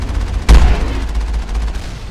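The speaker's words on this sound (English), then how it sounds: "that's a lot of missiles!" Missile launches and gunfire in the Mass Effect video game: a loud, close blast is followed by a rumbling low roar and a steady rattle of rapid fire, with no talking.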